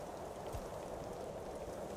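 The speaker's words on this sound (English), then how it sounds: "but it is raining" Steady rain falling in the fantasy video game Tainted Grail: The Fall of Avalon, a soft continuous wash of hiss with no pauses, fairly quiet and alone.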